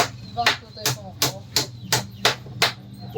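A hammer strikes repeatedly while a door is being replaced, about eight sharp, loud blows at a steady rhythm close by.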